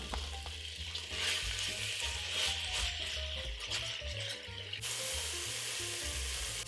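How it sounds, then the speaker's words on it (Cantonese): Beef pan-frying in a hot wok on medium-low heat, a steady close sizzle and frying crackle with occasional stirring scrapes throughout, no voices. "咁記住燒紅嗰隻鑊之後咧，我哋保持中細火去煎就 OK 嘅啦"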